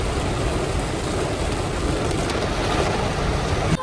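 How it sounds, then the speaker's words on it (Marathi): A steady, dense roar of heavy rain pours without pause, close and loud throughout. "आज तुफान पाऊस चालू झाला बघा निघतानाच"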